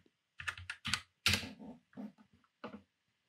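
Keys clatter on a computer keyboard while a search is typed, coming in short bursts of quick clicks with brief pauses between, close and fairly quiet.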